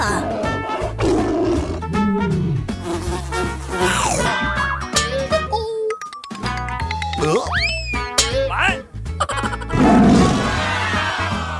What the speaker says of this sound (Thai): นี่คือสิงโต